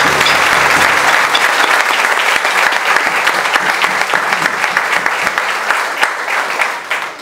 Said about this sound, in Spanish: me gustaría que le volviéramos a dedicar un aplauso de nuevo a Pupa Clown